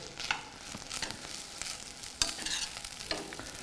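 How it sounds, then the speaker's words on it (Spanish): A spoon stirs rice with Chinese roots in a hot pan, scraping and tossing under a low sizzle, with a few sharper clatters close by and no talking. "Voy a revolver."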